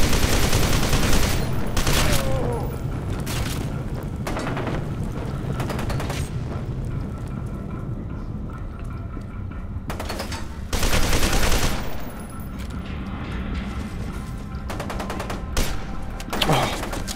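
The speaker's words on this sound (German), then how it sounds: "Oh, ein Schuss." Gunfire in the shooter game F.E.A.R. 2: Project Origin: loud, dense bursts of automatic weapon fire and booming shots over a constant rumbling background, without talking.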